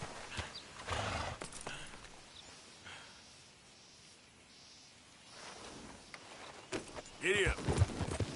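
A horse in Red Dead Redemption 2 snorts and whinnies, with scattered hoof clops and gear rattling around it, quiet in the middle and louder toward the end, where a voice speaks briefly.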